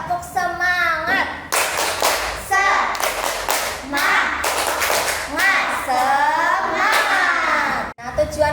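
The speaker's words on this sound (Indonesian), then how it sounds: "Tepuk semangat" A fifth-grade class claps out a patterned rhythm together, sharp group claps and taps close by, while children's voices chant loudly along with the beat.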